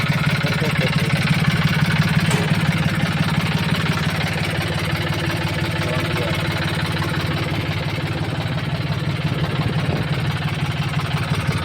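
A steady, rumbling John Deere 5041 C tractor diesel engine idles nearby, its low throb constant and unchanging throughout with no voices.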